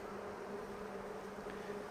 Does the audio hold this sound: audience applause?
no